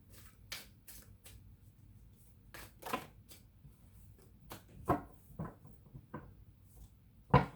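Tarot cards being shuffled by hand in a quiet room, a series of soft riffling bursts and light papery slaps at an irregular pace, close and fairly faint.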